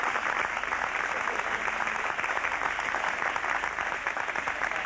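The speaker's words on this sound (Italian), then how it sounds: "Grazie per gli applausi innanzitutto" Steady audience applause from a concert crowd at a live show by an Andean Peruvian-Bolivian folk music group, dense and continuous clapping filling the whole stretch without talk.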